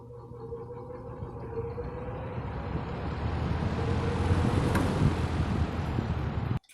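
A 1950s Wizard box fan motor starts up, a low whir and rushing airflow that swell and grow louder over several seconds, close and steady, before cutting off abruptly.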